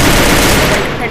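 Rapid gunfire from a Free Fire solo Bermuda battle royale match, a dense continuous burst of shots filling the whole moment, loud and close with game noise mixed in.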